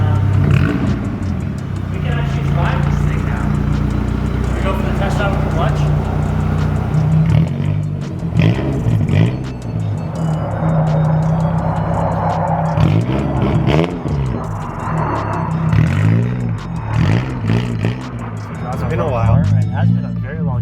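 A Nissan S13 with GTR seats and a freshly fixed clutch drives on a test run, its engine hum steady and close with several revving rises, while people talk over it throughout.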